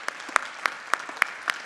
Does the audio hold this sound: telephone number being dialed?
no